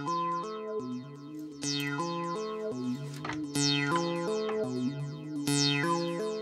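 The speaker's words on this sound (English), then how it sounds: "you can hear the rest of the sequence still going in the background, trailing off, but it's only opening just on that one" A Roland SH-101 analog synthesizer plays a repeating bass-register sequence while its envelope is adjusted, notes shifting between short plucks and brighter, longer decaying tones, loud and steady with no talking.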